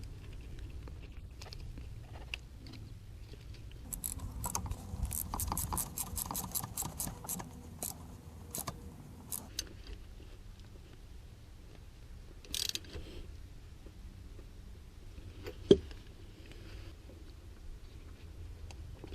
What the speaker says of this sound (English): we're going to go ahead and put it in. It's a pipe thread fitting, so it doesn't bottom out, it just kind of snugs up